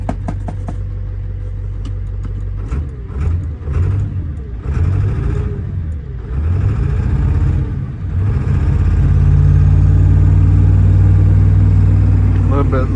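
A 1979 Ford F250 with a swapped 6.0 Powerstroke diesel idling, a loud steady low rumble with a rhythmic knocking pulse that rises slightly toward the end, while people talk nearby.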